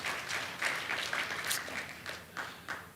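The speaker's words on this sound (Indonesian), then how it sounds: "Berikan sorak-sorai yang paling meriah buat Tuhan kita" A church congregation claps and cheers for God during a sermon, steady broad applause with rhythmic bursts of clapping lasting throughout, close and moderately loud.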